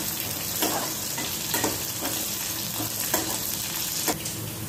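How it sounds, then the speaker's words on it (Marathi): Garam masala whole spices, garlic and onion frying in hot oil in a pan, a continuous close sizzle with periodic stirring scrapes, no voices. "एका पॅनमध्ये तेल घालून आपण यात गरम मसाल्याचे सामान, लसूण व कांदा या सर्व गोष्टी परतून घेणार आहोत"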